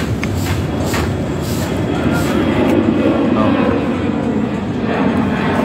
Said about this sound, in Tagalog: Malapit lang po talaga tayo sa airport. Kaya medyo maingay yung mga paglipad ng mga aeroplano.